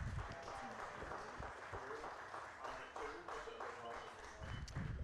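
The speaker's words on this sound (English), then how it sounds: "Let's have a round of applause for this outstanding Rose-Hulman graduating class of" At a college baseball game, Rose-Hulman vs. Defiance, spectators applaud the Rose-Hulman graduating class of 2022. The faint, distant clapping is a soft, continuous patter under a low, rumbling outdoor background.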